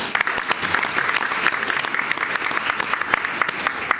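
Audience members at a school board meeting clap together, a steady patter of many hands applauding in a room, fairly close and continuous throughout, with no one speaking over it.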